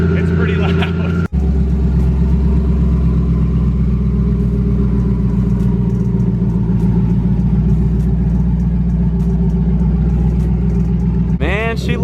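Turbocharged 1000hp drag car engine idling with its turbo dumped, a loud, steady, rough mechanical rumble that holds throughout, broken by a brief dropout near the start and a burst of revving at the end.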